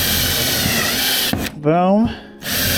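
A power drill bores pilot holes into 2x3 wood, a steady close whirring that runs alongside someone talking and breaks off briefly in the middle.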